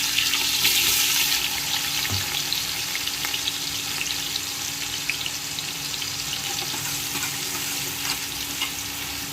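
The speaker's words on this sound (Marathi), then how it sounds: "जरा कांदा टाकूया आता" Onion frying in a pan gives a steady, fairly loud sizzle throughout, with a steady low hum underneath and no talking.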